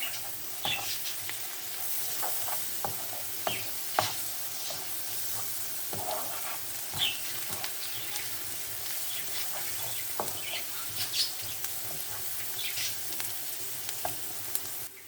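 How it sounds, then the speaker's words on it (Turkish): Onions with a spoonful of tomato and pepper paste sizzle in a pan as a utensil stirs them, producing a steady frying hiss with scattered scraping clicks and taps, close and moderately loud with no talking. "Onu ilave ettim. Güzelce bir karıştıracağım."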